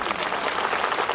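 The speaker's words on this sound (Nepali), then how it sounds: "जोरदार तालीले सम्मान गरौँ" Audience applause at a first annual anniversary celebration of a Christian church branch in Sundarbazar, Lamjung, Nepal: dense, steady clapping filling the whole moment, loud and continuous with no pauses.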